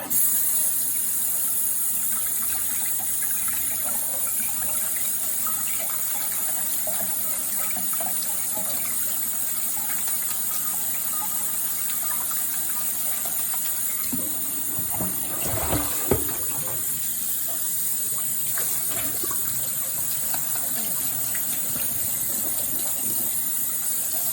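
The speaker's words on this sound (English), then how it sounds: "we would like to wash the bamboo shoot right now" Tap water running while a bamboo shoot is washed in a kitchen sink: a steady, continuous hiss of flowing water with a brief splashing surge midway, no talking.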